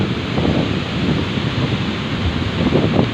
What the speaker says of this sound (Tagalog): Abot yung alon dito sa amin.